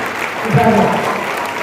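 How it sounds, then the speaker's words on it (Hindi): Applause from an audience at an Urdu poetry recital fills the whole clip as a steady wash of clapping, with a voice briefly rising above it. "जोरदार तालियों से इजाजत दें।"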